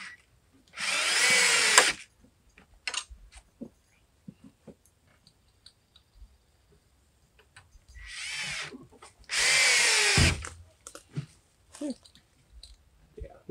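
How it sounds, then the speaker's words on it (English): A power drill drives screws into a wooden playset, two bursts of whirring of about a second each with quiet pauses and small clicks between them. "I just started screwing stuff in."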